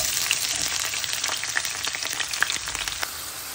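Spices sizzle in hot ghee in a pan for chicken curry, a dense continuous crackling hiss with faint stirring clicks and taps, close and steady, with no voices.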